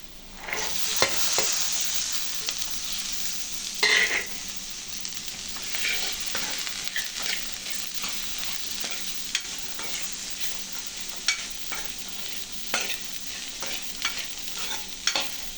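Chickpeas seasoned with garam masala fry and get stirred in a pan, giving a steady hiss with repeated scraping strokes and light clicks throughout, fairly close, with no one speaking.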